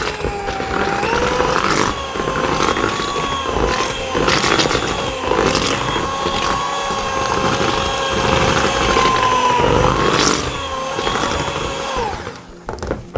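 An electric mixer beating chocolate eclair batter, a loud continuous motor whine with wavering pitch that runs steadily and cuts off near the end.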